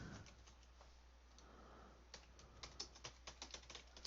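Keys on a computer keyboard are tapped in quick, irregular bursts, faint and close, over a low steady hum.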